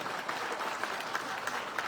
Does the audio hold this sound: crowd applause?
yes